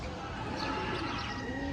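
Pigeons coo softly on a cold winter morning, their low calls mixed with faint chirps and general bird chatter. The sound is steady and moderately close across the short stretch.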